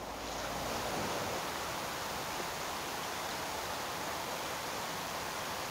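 Water pours steadily onto the soil of a potted asparagus fern during a thorough watering, a continuous even rushing hiss lasting several seconds with no voices.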